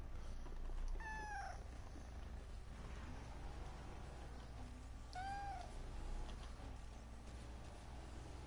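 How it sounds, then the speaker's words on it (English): A pet cat lets out two distinct meows, one early and one later, close by over a steady low background hum, while its owner plays Need for Speed Heat with the cat resting on his arm. "Yeah, y'all can probably hear him meowing too."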